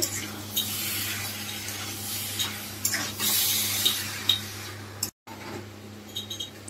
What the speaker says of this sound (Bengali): এবার এটাকে আমরা ভালো করে ভাজা ভাজা করব।